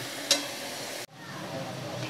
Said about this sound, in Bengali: লবণ হলুদ দিয়ে আরও কিছুক্ষণ আলুটাকে আমি ভেজে নেব।